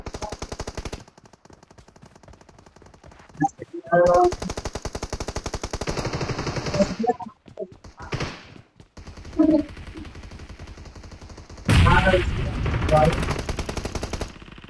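M416 assault rifle fire in the PUBG video game: loud, rapid automatic bursts of several seconds each, broken by short pauses and gaps of near silence, with crisp mechanical clatter between volleys.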